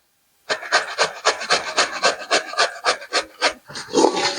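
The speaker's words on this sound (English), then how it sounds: "so we start off by grating the zucchini" Zucchini being grated by hand, a steady series of about fifteen rasping strokes close up, each scrape sharp and regular with no talking over it.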